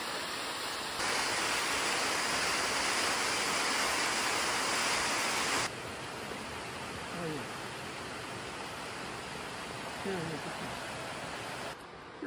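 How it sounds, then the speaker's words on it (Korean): Yukdan waterfall in Seoraksan, a broad steady rush of falling water filling the whole stretch, loud and hissing, with a few faint bird-like chirps and a brief shift in level partway through. "이것이 바로 육단폭포."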